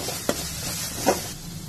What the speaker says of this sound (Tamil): நல்லா வதக்கிக்கோங்க வதக்கிட்டு இப்ப நான் வந்து கேரட்டை ஆட் பண்ணிக்கிறேன்